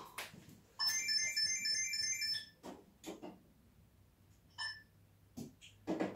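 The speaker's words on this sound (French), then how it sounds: "Et là, il y a le téléphone qui sonne." A telephone rings in short electronic trills, one longer burst followed by a brief second one, fairly faint in a quiet room with scattered small knocks and rustles.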